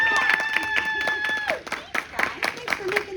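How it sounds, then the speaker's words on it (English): An audience at a Q&A panel with Kaitlyn Robrock claps and cheers in scattered bursts, with whooping voices mixed into the clapping; the applause is close and fades unevenly. "give her a round of applause, come on"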